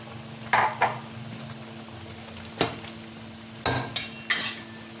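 Metal clinks and knocks from a karahi pot as peeled chopped tomatoes and oil go in with mutton, a few sharp clanks spaced apart over a steady low hum, no talk.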